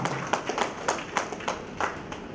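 An audience at a lecture on federalism claps in honour of a guest, giving sparse, uneven handclaps that sound moderately distant and fairly quiet, with no voices over them.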